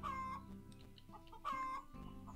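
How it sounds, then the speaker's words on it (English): Chickens cluck in the farming game Gleaner Heights, two short bursts of clucking about a second apart, close and clear over soft background music, no talking. "Oh, chickens."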